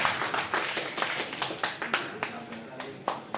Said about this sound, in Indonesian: Tepuk tangan untuk Bu Amin